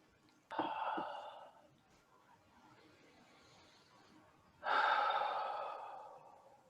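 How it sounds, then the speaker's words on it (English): Two long, deep breaths taken during a guided relaxation exercise, each a loud, breathy inhale-and-exhale lasting about a second or more, with a quiet pause between them and no talking. "Take 3 deep breaths and relax into each."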